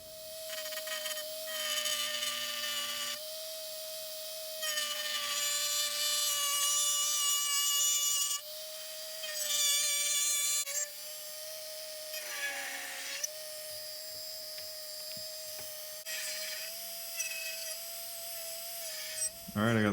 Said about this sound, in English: I got the first hole drilled